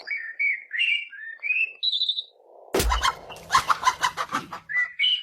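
A large chicken clucks in a burst of rapid, loud, close calls that follow a quieter run of short, thin whistly bird-like notes.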